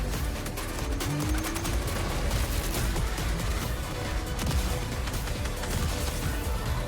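Rapid retro 8-bit shotgun blasts from Fortnite gameplay, a dense burst of crackling, noisy gunfire with game effects, close and loud throughout.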